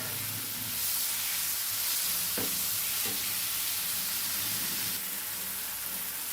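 Onion and tomato fry in a pan while being stirred, a soft, steady hiss and sizzle with a couple of spoon scrapes against the pan, no talking.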